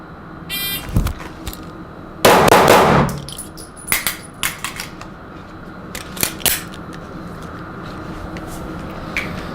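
Shots fired at a live-fire shooting range during defensive mindset training: a few sharp cracks, the loudest a broad burst early on, followed by scattered clanks and clicks of handling in a quiet outdoor setting.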